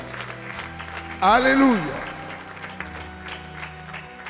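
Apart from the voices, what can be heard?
church congregation applauding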